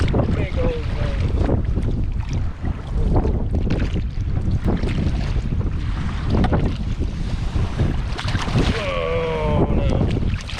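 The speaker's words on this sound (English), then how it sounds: "Big old waves." Big waves on a lake driven by high wind during a stormy solo camping trip, loud continuous surf and roaring wind buffeting the microphone, with a voice speaking over it.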